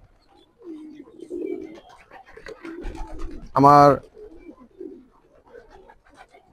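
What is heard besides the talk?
Jalali pigeons cooing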